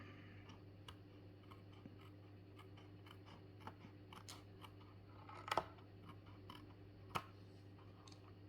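Scissors snip through a paper greeting card along its edge, faint scattered clicks and a few sharper cuts over a steady low hum, close and quiet with no talk.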